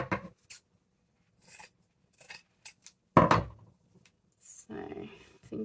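Scissors snip off a frilly bit of paper scrap while junk journal ephemera is made, several close crisp cuts and rustles in short bursts separated by quiet gaps.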